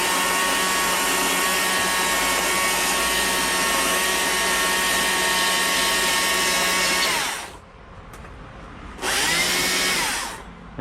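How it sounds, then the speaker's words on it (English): A power sander or die grinder smooths chainsaw-carved wood on a wood spirit birdhouse, whining loudly and steadily close by, cutting out briefly near the end, then spinning back up and winding down again. "Sander will clean this up,"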